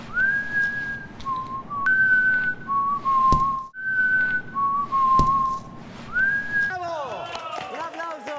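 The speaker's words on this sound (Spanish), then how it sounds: "A veces Jake silbará." A character in Resident Evil 6 whistles a slow melody of clear, sustained notes with brief gaps, heard near and prominent over quiet game ambience, ending with a burst of other game sounds.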